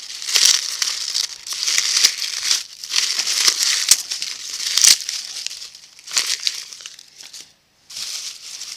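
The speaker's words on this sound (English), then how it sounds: "You can either use them fresh or dried like I got here, and you're going to take them off the stem." Dried corn husks are pulled off the stem by hand, giving loud, close crinkling and tearing rustles in repeated bursts with brief pauses and no talking.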